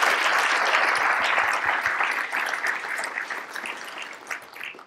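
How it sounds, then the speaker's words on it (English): Applause from a symposium audience after a presentation, a thick, even wash of clapping that holds steady and then gradually fades out. "let's give them a round of applause"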